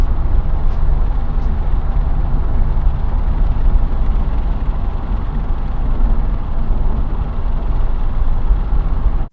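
Steady, loud wind roar buffeting the side mirror of a moving Toyota with the window down, a constant broadband rush mixed with low road and engine rumble and no pauses.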